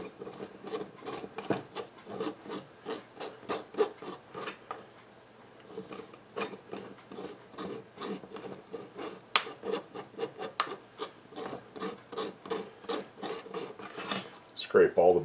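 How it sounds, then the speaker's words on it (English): Bread dough scraped off the outside of a press or sieve after being forced through, following an 1893 recipe; steady rasping, rubbing strokes in quick irregular succession, close by, with no talking. "Scrape all the bits off the outside."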